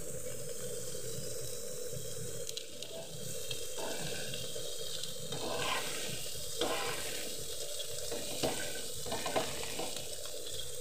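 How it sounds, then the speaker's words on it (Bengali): Eggplant fried in a pan with raw fish, giving a steady, close sizzle and crackle that runs the whole time with a few louder spatters and stirring scrapes, and no voices. "দেখেছো চারিদিক দিয়ে বেশ সুন্দর করে ভাজা হয়ে গেছে।"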